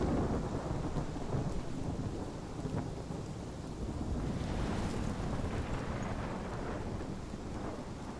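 A thunderstorm in the video game Life is Strange roars steadily with heavy rain and rumbling thunder, a dense, continuous wash of storm noise that stays loud throughout with no voices.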